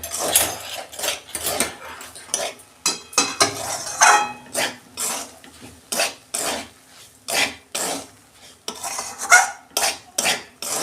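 A spoon stirs vegetables in a pan for semolina upma, making a steady rhythm of close scraping and clinking strokes against the metal with a faint sizzle underneath.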